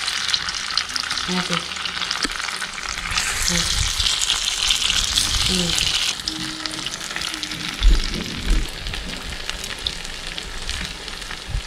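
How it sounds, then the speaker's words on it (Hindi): Patrode, a Himachali leaf-and-batter dish, frying in a pan with steady sizzling and crackling throughout, close and fairly loud, with occasional stirring thumps and a brief spoken word near the start. "इसको यहाँ फ्राई करेंगे ऐसे"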